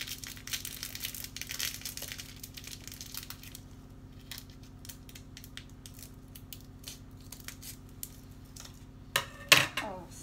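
A plastic sachet is cut open and crinkled while preparing a dot-painting kit: crisp crackling and crumpling up close, a steady low hum beneath, then a louder rustling burst near the end.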